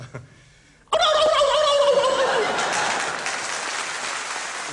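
A man performs a turkey imitation, a loud rapid gobbling trill that bursts in after a brief pause and then fades into an audience's applause.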